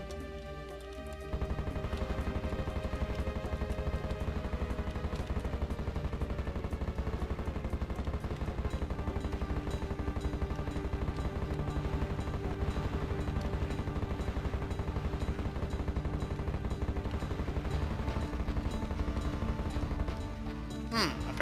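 Fire mace attacks in the game Heretic, a relentless rapid stream of small crackling shots that fires continuously for about twenty seconds after a brief lull at the start.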